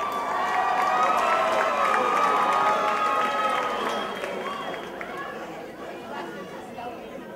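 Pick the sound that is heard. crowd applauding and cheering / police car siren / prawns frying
crowd applauding and cheering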